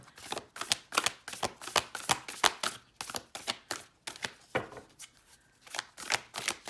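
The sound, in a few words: tarot cards being shuffled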